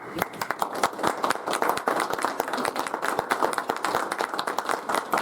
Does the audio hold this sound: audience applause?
yes